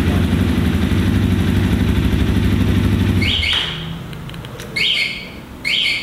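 A Honda CRF250 Rally motorcycle idles close by with a steady low rumble, then the engine is switched off and cuts out, leaving a quiet background broken by several short, bright bird chirps.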